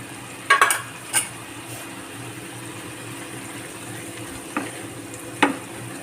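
Fried potatoes being stirred into spinach gravy in a pan for aloo palak, giving a few distinct scraping clinks near the start and again near the end over a low, steady background simmer, with no talking.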